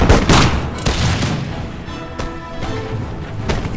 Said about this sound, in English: you see the riflemen here just firing are just trying to hopefully fire at